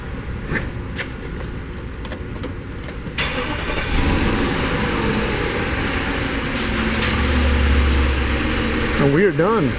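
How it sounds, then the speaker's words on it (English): A BMW 740iL E38 engine cranks and starts up, settling into a steady mid-pitched idle with engine rumble building after a few seconds, heard fairly close. "Let's go ahead and start up this vehicle."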